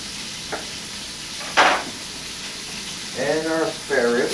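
Homemade sausage frying in a pot for minestra makes a low, soft sizzle, with a few clatters and a brief knock partway through, and muffled talk joins near the end.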